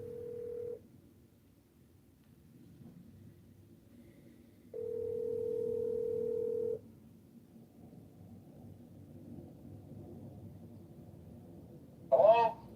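Ringback tone on a telephone line while a call waits to be answered: two steady electronic tones separated by a long quiet stretch, over faint line hiss, ending with a short burst of noise.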